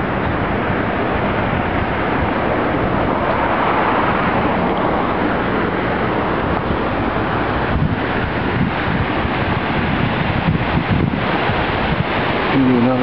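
Rushing water of Indian Creek in Caldwell roars in a steady, loud, broadband wash that never lets up, with gusty buffeting mixed into the flow.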